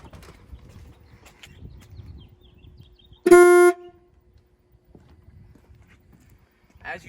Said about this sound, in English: The next thing we'll be doing is checking the horn.